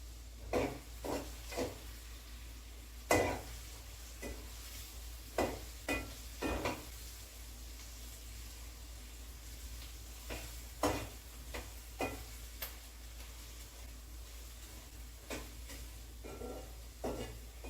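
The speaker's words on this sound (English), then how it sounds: "Let that stir a bit." Onion and flour stirred in a pot for cheddar broccoli soup, with a spoon scraping and clinking against the pot in irregular bursts over a low, quiet background.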